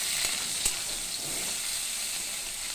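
Chopped onion frying in oil gives a soft, steady sizzle with a couple of sharp crackles near the start. It stays faint and close, with no talk.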